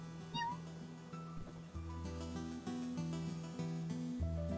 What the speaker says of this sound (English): I will pet the cat.